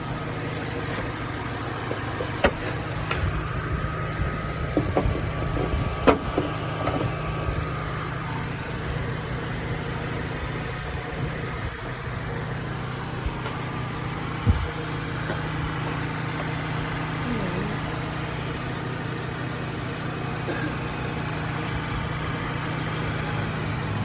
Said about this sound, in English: that's your engine.